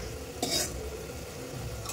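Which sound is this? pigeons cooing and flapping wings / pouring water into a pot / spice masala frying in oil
spice masala frying in oil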